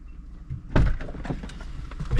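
A car door slams shut once with a loud, sharp thunk midway through, set against a quiet outdoor background with faint rumble before and after, near a railroad ghost town site.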